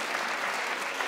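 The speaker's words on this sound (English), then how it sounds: "Encouraging people to clap when all they wanted to do was sit there and look." A studio audience at a daytime talk show claps, a dense steady burst of applause filling the room throughout.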